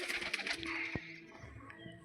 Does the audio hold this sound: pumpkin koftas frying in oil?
no